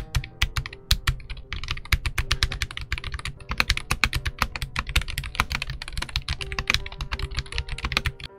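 Steady, fast typing on a Royal Kludge RK N80, a low-profile 75% keyboard, fills the whole stretch with close, crisp keystrokes in an uneven run and no voices.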